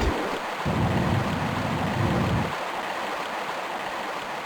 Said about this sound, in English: We're going to start by pulling this switch over here to drain the water enough for us